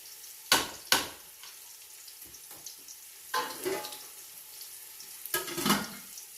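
A kilo of thin-grained biryani rice is washed under running water for a beef biryani, with a few bursts of splashing and swishing separated by quieter pauses, close and fairly soft.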